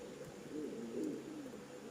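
Foreign-breed pigeons give soft, low coos close by, a faint murmuring call in a loft where a female has just stepped off her eggs.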